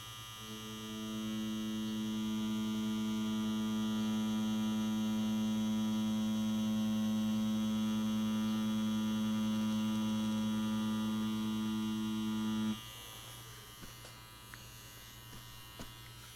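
A tattoo machine with a cartridge needle buzzes in a steady, loud electric drone with a strong hum, running continuously for about twelve seconds before cutting off into quieter room sound.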